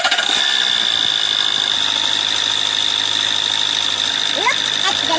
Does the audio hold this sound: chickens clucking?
no